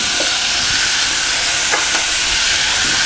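Steady frying hiss of apple pieces added to softened onions in a hot pan, a continuous broad sizzle with a few faint clicks and no talk.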